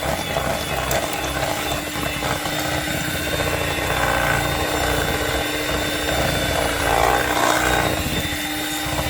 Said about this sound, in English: I'll cut my mixer up to high and work the edges and work the middle and stir.